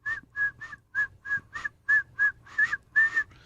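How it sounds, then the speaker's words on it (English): A person whistles a string of about eleven short, bright notes in a quick, steady rhythm, close and clear, the last few notes longer. "This is my best whistle."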